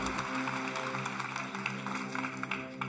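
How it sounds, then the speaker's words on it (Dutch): Audience applause fills the room at the 2023 MICHELIN Guide Netherlands selection ceremony, a dense continuous patter of clapping that holds over background music for the full few seconds. "Ja, geef ze een applaus."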